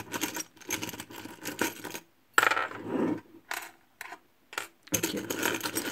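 Small metal charms and a ring jostled and shuffled by hand for a weekly divination reading, giving bursts of close, jingly clinking with short pauses between rounds.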